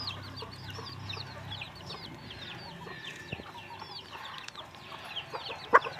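Young chicks on a farm give soft, repeated clucks and chirps that overlap in a continuous chatter, with a sharper call near the end and no one talking.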